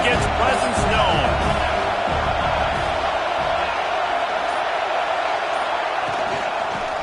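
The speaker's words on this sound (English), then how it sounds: "This crowd ready to make its presence known." Stadium crowd roar at a Virginia Tech versus USC college football game, a steady wash of noise with scattered shouts, heard under commentators talking.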